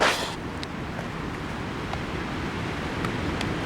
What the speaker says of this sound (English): I'm being quiet so you can hear the wind blow.